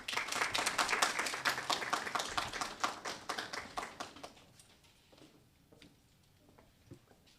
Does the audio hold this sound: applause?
yes